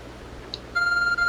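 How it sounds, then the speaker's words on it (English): A phone-like device in Pokémon Legends Arceus gives a short chirp, then a steady electronic beep that holds its tone, clear and close over a low game background hum. "There's a glowing beeping object over there."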